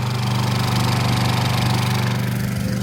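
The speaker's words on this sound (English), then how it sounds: "Here is the trusty Honda generator" A Honda generator runs steadily at a cabin near Walcha, a close, continuous engine drone with a low harmonic hum and even pulsing, no voices over it.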